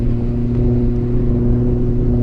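An RC glider's electric motor hums loudly and steadily under throttle, a constant tonal whine with a low buzzing drone holding through the whole short stretch.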